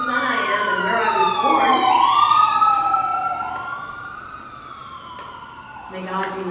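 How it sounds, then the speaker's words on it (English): An ambulance siren wails past outside a church service, with sweeping rising and falling tones that grow louder and then slowly fade into the distance. No one talks over it. "May God be with the people in need for whom that ambulance is going."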